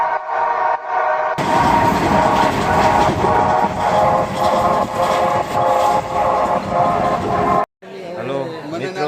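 Train at a railway station on a trip to Junagadh, a loud continuous rumble of rolling rail cars with rhythmic clatter, sharply cut off near the end, followed by a brief stretch of voices.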